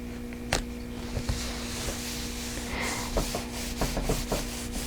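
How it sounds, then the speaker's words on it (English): A hand rubbing firmly over a pressed-down, paper-backed sheet on fabric: quiet, close scuffing strokes in short irregular bursts over a steady low hum, with no talking. "And just rub it really well, and now it's ready to cut out."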